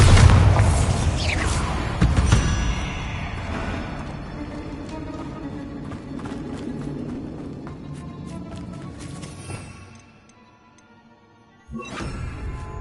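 Spell-blast explosions in a video game land as heavy booming bursts with crackling, shattering debris. The rumble fades out, then a fresh impact hits near the end.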